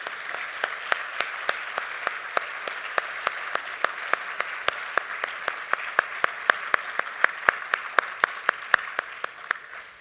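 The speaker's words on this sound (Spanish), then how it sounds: "Aplausos." Audience applause at a leadership panel in a Spanish-speaking hall, dense steady clapping from many hands filling the room for ten seconds and tapering slightly at the end.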